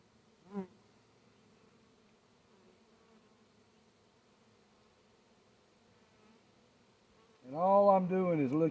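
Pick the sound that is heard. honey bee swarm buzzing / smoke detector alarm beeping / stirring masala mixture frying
honey bee swarm buzzing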